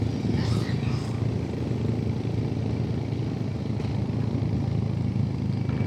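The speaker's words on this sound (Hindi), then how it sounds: "ढलान इतनी ज़्यादा है कि सेकंड गियर भी बहुत ज़्यादा इंजन ब्रेक नहीं ले पा रहा" Motorcycle engine braking in second gear on a steep mountain descent, a steady close, moderately loud engine drone with clattering undertones and no break from start to finish.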